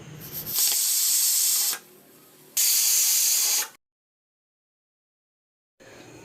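A pressure cooker vents steam in two strong hissing bursts separated by a quieter pause, then falls silent before a faint hiss returns, close and without talk.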